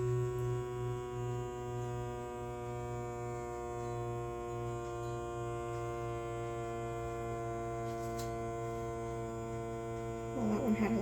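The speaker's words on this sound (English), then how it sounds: "let's vacuum seal it" A Zwilling food saver vacuum sealing machine pulls air from a bag with a steady, close electric motor drone that stays even throughout and shifts slightly at the very end.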